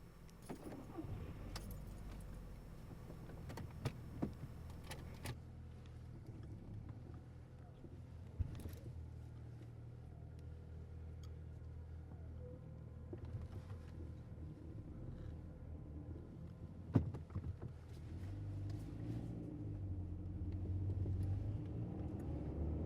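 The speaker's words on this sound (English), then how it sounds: "Let's just get in the car." In an ASMR roleplay, a car door thuds and keys jangle as someone gets in, then a low engine rumble carries on steadily while the car drives, with a few soft clicks and knocks.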